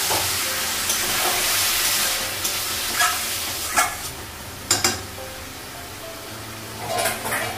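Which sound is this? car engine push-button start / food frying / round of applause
food frying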